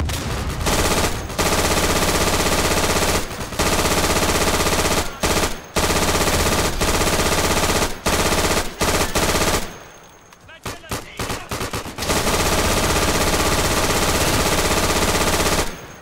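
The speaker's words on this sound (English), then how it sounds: "MG42 hipfire beats flamethrower in that room" MG42 machine gun fired from the hip in the World War II shooter Day of Infamy, loud sustained automatic bursts in long runs broken by brief pauses, with a sputtering gap in the middle.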